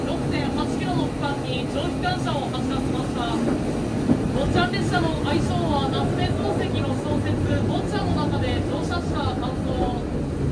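The Botchan train, a small tourist train in Matsuyama, rumbles along steadily at close range, with continuous rolling and rattling noise and voices heard intermittently over it.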